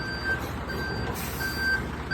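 Delivery truck hauling paving tiles, its reversing alarm beeping in a steady repeating pattern over a low diesel engine rumble, fairly close.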